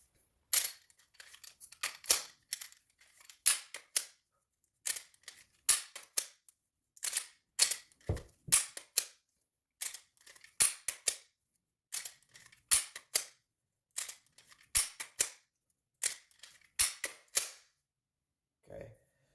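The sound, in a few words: handgun drawn from holster during draw practice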